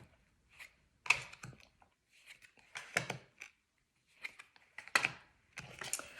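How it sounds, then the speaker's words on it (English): Tarot cards pulled and flicked from a deck, giving a few soft, quiet papery slaps and shuffling rustles spaced apart, with near-silent gaps between them. "let's pull some cards for this month ahead"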